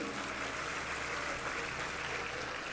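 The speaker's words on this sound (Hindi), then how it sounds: "एक बार जोरदार ताली बजाइए इनके लिए" A crowd at a devotional discourse gathering claps for an honoured guest, giving a steady, dense wash of applause that holds at a moderate, somewhat distant level throughout.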